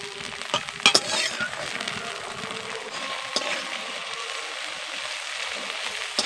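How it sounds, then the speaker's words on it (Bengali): Green peas frying in a little oil over low heat give a steady, close sizzle with a few sharper crackles and pops near the start, continuing without speech. "দিয়ে মটরশুঁটিগুলোকে ভেজে নিতে হবে"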